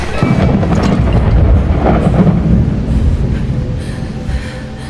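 Thunder rolls through the horror video game A Quiet Place: The Road Ahead, a loud, dense and continuous rumble that holds steady and eases only slightly toward the end.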